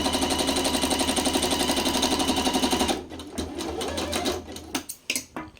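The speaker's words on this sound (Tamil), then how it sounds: "ஓவர்லாக் ஸ்டிச் போடலாம்" A tabletop sewing machine runs an overlock zigzag stitch, giving a fast, steady mechanical whir with a rapid needle rhythm for about three seconds. It then stops and leaves scattered clicks and handling clatter.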